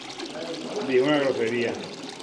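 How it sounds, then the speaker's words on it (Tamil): Water pours from a spout at a waterfall in North Korea, a continuous splashing stream that swells slightly in the middle, fairly close and steady. "நீர்வீழ்ச்சி மேலே வந்து தண்ணி ஊற்றுது"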